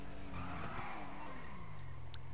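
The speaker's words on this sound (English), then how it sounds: "Yeah, definitely drifting car." A car drifts in the video game GTA, its engine droning and shifting pitch while tires skid in a steady, fairly quiet stretch.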